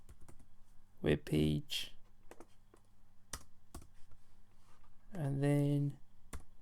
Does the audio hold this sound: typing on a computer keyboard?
yes